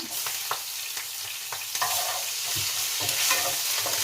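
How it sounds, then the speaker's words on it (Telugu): Slit green chillies and ginger sizzle in hot oil in a pan for fried rice, with a steady crackling hiss and sharp clicks of a spoon stirring, close and without talk. "ఇప్పుడు ఒక ఏడెనిమిది పచ్చిమిర్చి చీలికలు అయితే వేస్తున్నామండి అందులోకి ఒక టేబుల్ స్పూన్ అల్లం కూడా వేసుకుందాం"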